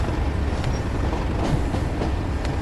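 In Train Sim World on the Tees Valley Line, a locomotive rolls along with a steady loud rumble and faint rhythmic wheel clatter while its brake slows it, no voices over the noise.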